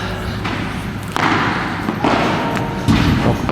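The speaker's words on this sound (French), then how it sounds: "On est parti pour les balles en l'air avec cette raquette" Oxdog Ultimate Court padel racket hitting balls on a padel court, a few solid thuds spaced about a second apart over a steady background of court ambience.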